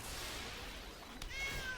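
A cat meows as a card effect in MTG Arena, a short, rising, tonal call near the end following a soft whoosh and a brief click, with no talking.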